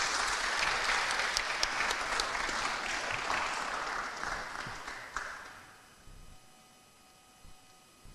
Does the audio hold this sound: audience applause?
yes